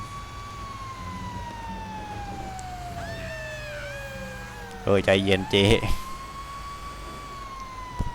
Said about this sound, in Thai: เปิดไซเรนครับผม